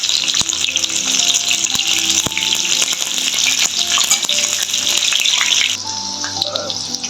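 Eggplant pieces sizzle steadily in a hot pan with oil while being browned, a loud continuous crackle with occasional clinks of a spatula, easing slightly near the end.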